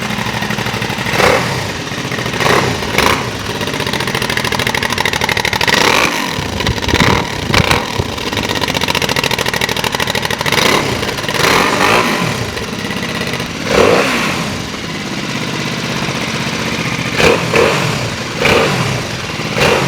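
A Brough Superior SS100 MKII motorcycle engine runs loud and close for about twenty seconds, with a steady throbbing beat and repeated blips of revving.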